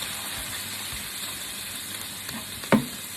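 Half a kilo of diced bacon frying in a pan, an even, continuous close sizzle with a single sharp utensil clack near the end.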